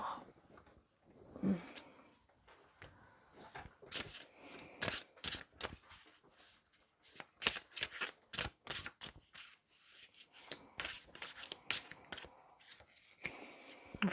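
A deck of tarot cards is shuffled and handled up close, with quiet riffling and flicking in irregular bursts separated by soft pauses.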